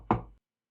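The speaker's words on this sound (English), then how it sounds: "You knock on the door" A single sharp knock, as on a door, during a Call of Cthulhu tabletop roleplaying game: one close, solid thud that decays quickly into silence.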